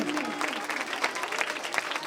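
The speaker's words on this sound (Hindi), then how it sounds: "एक बार जोर में ताली बजाएं" Enthusiastic audience applause at a patriotic song performance by young children, steady dense clapping from a crowd throughout, fairly close and continuous with no pauses.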